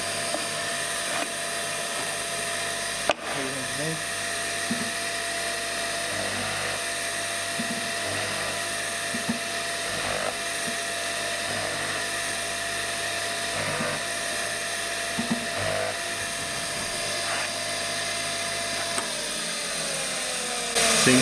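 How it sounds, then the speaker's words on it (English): A Wadkin LK pillar drill press runs in a woodworking workshop, a steady high motor whine with faint repeated cutting pulses over about twenty seconds and no talk. "that's the Wadkin LK pillar drill, and it's the latest addition to the workshop."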